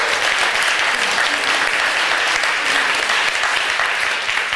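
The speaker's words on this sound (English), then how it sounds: "that's applause for you" A church congregation at a Sunday service breaks into loud, steady applause, many hands clapping densely and evenly throughout without pause.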